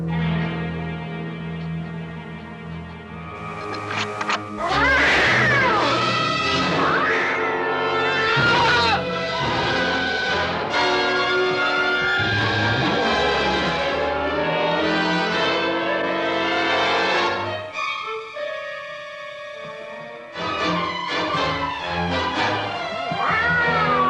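A cat meows in a classic science fiction film scene about a shrinking man, drawn-out pitched cries rising and falling over orchestral music, loud and dramatic.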